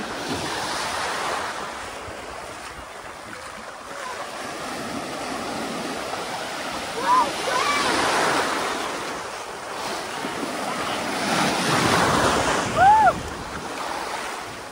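Ocean surf rolls in continuously near a sea cave in Hawaii, with broad, roaring wash and wind buffeting; a couple of brief high squeals rise near the end.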